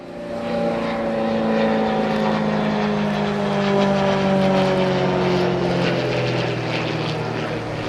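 A CAP-21 French aerobatic propeller plane flying at an airshow in Malta, its engine a steady loud drone with a slowly falling pitch as it passes close by.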